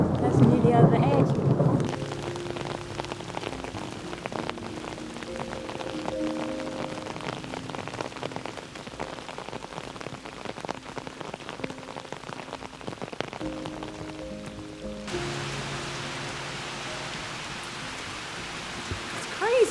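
Heavy rain pours down on a narrowboat in a steady, dense roar, with a brief louder rush at the start and a shift in tone near the end.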